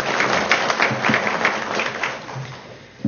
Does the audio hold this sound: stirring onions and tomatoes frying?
no